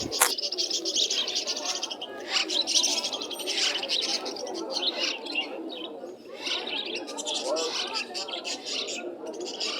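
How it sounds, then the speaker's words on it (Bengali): A myna chick's busy chirping and chattering fills the scene at a pigeon market in Khulna, with repeated sharp calls and softer cooing underneath, fairly close and continuous throughout. "একটা ময়না পাখির বাচ্চা রয়েছে"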